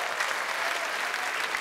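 Sustained applause from a theatre audience at a Russian comedy stage show for Russian Film Day, welcoming a performer onto the stage. The clapping is dense, steady and continuous, with a faint crowd murmur underneath.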